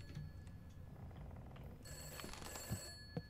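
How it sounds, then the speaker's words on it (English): A telephone rings in a haunted cabin video game, a thin bright trill that grows clearer partway through over a dim, noisy background, with a couple of soft knocks near the end. "The phone's ringing."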